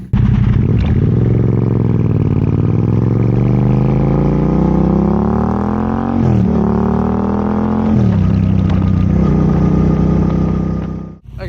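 A Yamaha Tenere 700 fitted with an open Camel ADV high-mount exhaust with no silencer, loud and close on a road test, its engine note rising steadily through the gears with brief drops at each shift and no voices.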